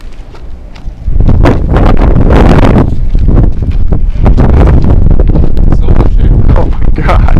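Sandstorm wind in Kuwait roaring loud and steady against the microphone, a continuous blustery rush that surges from about one second on and stays strong to the end.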